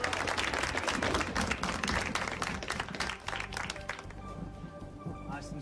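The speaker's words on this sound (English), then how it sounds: "Let's give him a big round of applause," Audience at a magic show breaking into applause, a crowd clapping loudly and steadily for about four seconds before it fades, with voices talking over it.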